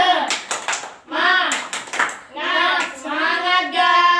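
Fourth-grade schoolchildren in a classroom do a rhythmic 'semangat' clap, with short bursts of quick hand claps alternating with the children's voices chanting together.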